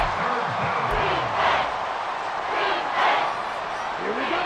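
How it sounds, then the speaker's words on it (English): The Arrowhead Stadium crowd roars at a Chiefs vs. Raiders football game ahead of a third down, a dense, steady wall of crowd noise that swells and falls in waves, with a commentator talking over it. "The Arrowhead crowd in full roar"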